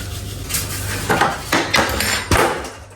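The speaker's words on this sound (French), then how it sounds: "j'ai fait tomber le pot de cannelle" A few hard clattering knocks and rattles as a cinnamon jar drops and bounces on a kitchen counter, with a final sharp clack; no talking.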